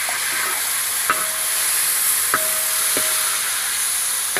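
Carrots, beans and chopped tomato sauté in a hot pan with a constant near sizzle, broken by a few sharp spatula scrapes and clinks against the metal.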